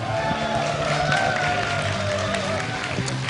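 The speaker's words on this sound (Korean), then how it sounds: "여러분 박수로 환영해주세요." An audience at a Street Fighter 4 tournament final event in Seoul applauds to welcome a speaker onto the stage, a continuous dense wash of clapping and crowd noise at moderate distance throughout.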